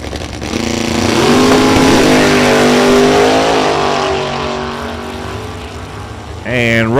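Oldsmobile Cutlass drag car at a Kentucky-entered outlaw drag race at a dragway, loud engine roar building and sustaining across the run, with a sharper rev near the end and an announcer talking over it.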